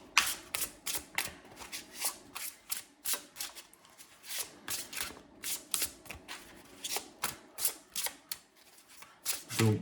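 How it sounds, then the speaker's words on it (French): Tarot cards being cut and shuffled by hand, a rapid series of crisp riffling flicks and soft slaps in uneven bursts, close and clear with no talking. "où je coupe et où j'inverse des cartes"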